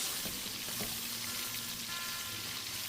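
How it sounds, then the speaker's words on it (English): Soft, steady sizzling as beef and vegetables sear together in a pot for stew, a faint continuous frying hiss with a few light stirring touches. "I like to sear all the vegetables with the beef, help blend those flavors."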